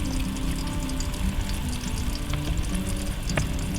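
Fish frying in vegetable oil: oil sizzles and crackles continuously at close range, a dense steady frying hiss with occasional pops.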